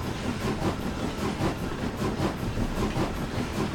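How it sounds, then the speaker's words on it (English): A Caledonian Railway Class 903 Cardean steam locomotive in a train simulator game chuffs in a steady, regular rhythm of exhaust beats over a continuous rumble and hiss, with no talking. "It sounds like a steam engine"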